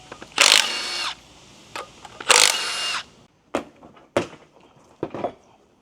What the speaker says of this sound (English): Here we go, M12 stubby Milwaukee.